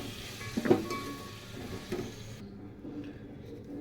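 Chopped mixed vegetables being stirred with masala in a pan for veg masala pulao, a soft scraping and gentle sizzle with a couple of spoon knocks, close and fairly quiet.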